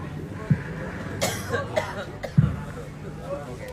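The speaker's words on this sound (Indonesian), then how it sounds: "Namun karena saya sudah batuk-batuk" Two short coughs from a speaker at a Maulid Nabi religious gathering, one near the start and one near the end, close and fairly loud, with murmured speech and crowd noise between them.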